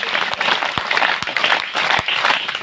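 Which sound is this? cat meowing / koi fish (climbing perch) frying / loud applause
loud applause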